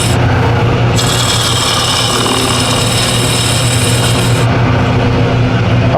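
A sharp chisel cuts through a knot in a wooden spindle turning on a lathe, giving a loud continuous scraping hiss over the machine's steady hum, with the harsh cutting noise intensifying through the middle.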